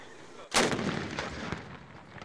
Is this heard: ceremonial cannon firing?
yes